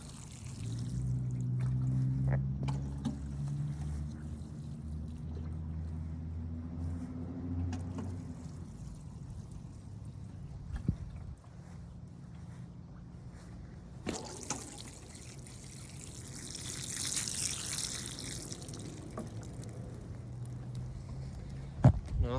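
Fish emulsion mix is poured from a watering can onto garden pepper plants, a steady trickling stream that stops and restarts with splashes and drips near the mic; no one speaks.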